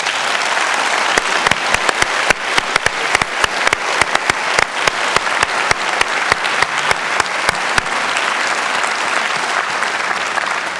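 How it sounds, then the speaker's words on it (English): An audience gives the students a sustained round of applause at a public conversation event with a governor, a dense wash of many hands with sharp individual claps popping out, loud and steady throughout. "I'd like to hear, before we say goodbye to the governor, a nice round of applause for the students today."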